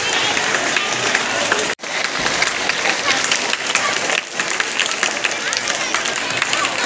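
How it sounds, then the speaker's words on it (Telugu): A crowd claps together at an Independence Day ceremony, a sustained dense patter of applause broken by one brief gap, with murmuring voices mixed in. "ఓకే, క్లాప్స్ కొట్టాలి"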